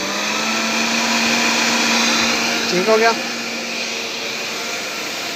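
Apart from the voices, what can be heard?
washing machine spinning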